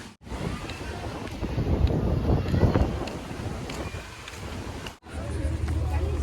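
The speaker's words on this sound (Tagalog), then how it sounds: "here comes the wind. Ang lakas na naman ng hangin" Strong wind at Mactan Beach in Cebu, Philippines roars and buffets the microphone in gusts, a loud rumbling rush that swells, briefly drops out, then returns.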